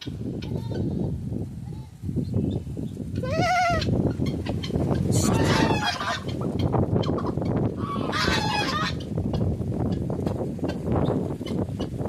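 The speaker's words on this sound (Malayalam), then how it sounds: "ആട്ടിൻകുട്ടി, അമ്മയും കുട്ടി, അങ്ങനെ കുറേ ആട്ടിൻകുട്ടി ഉണ്ടേ." Goats and lambs at a rural harvest festival bleat repeatedly, close and loud, in wavering calls over a busy background of chickens and crowd noise.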